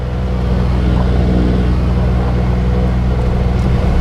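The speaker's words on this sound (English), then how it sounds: "and then we start cranking the right engine." Twin-engine Beechcraft Baron's right piston engine cranking and catching, a loud steady low rumble with throbbing harmonics holding close and continuous throughout, no voices.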